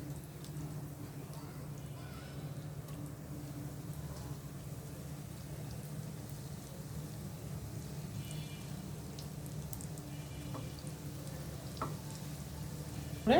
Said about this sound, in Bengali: এগুলো এখন ভাজতে দিলাম।